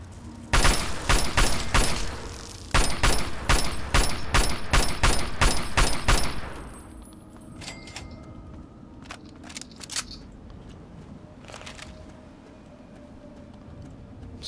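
Rifle gunfire at a giant ant in Fallout 3: two rapid bursts of loud, close, evenly spaced shots over about six seconds, followed by quieter scattered shots and clicks against low background noise, with no talking.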